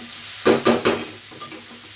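Cabbage frying in a pan with green chilies, stirred by a spatula: three quick, crisp scraping strokes in a row, then a softer fourth, over a low, steady sizzle.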